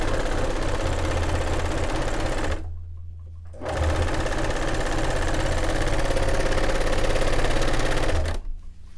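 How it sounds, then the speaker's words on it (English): A serger sewing machine finishes fabric edges made from bed sheets, a loud close mechanical whir that runs steadily, pauses for about a second, then resumes before stopping again near the end. "That is why I really like having a serger."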